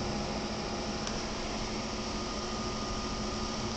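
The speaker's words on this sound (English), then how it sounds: "This is my fans." Loud computer case fans run steadily inside a custom-cut PC case, a constant broadband whooshing hum with a faint tonal whine, unchanging throughout and with no talk.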